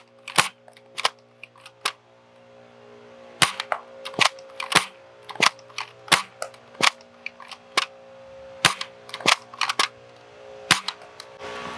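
A Gameface Trion foam blaster fires a long run of rapid shots, each a sharp loud snap, coming in quick irregular bursts at close range.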